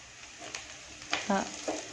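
Food being fried to a golden colour in a pan gives a soft, steady sizzle, broken by a few scraping stirs and clinks of the utensil.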